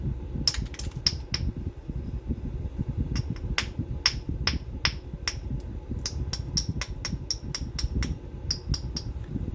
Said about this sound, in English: I'm gonna keep using hammerstone.